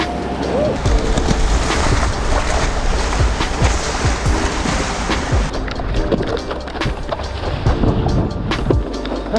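Small ocean waves wash in at Cannon Beach on the Oregon coast during skimboarding, a continuous loud broadband rush of surf and wind with scattered splashes and thumps, and no clear speech.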